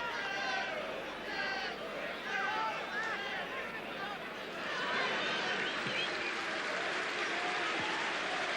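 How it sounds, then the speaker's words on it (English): At a Cambridge United versus Charlton Athletic football match, the crowd gives a substituted player a round of applause all around the ground, a steady wash of clapping under a commentator talking. "Steve Flarridge is coming off to a round of applause all around the ground"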